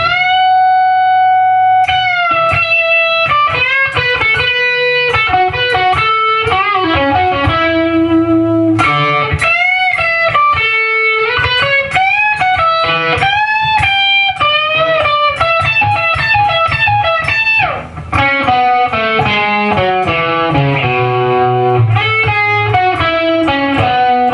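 Next phrase of the riff on distorted electric guitar: a fast, busy sequence of crunchy notes, bends and repeated low-string hits, loud and up close with no voices over it.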